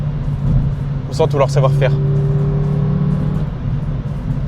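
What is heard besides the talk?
Renault Twingo RS naturally aspirated engine revving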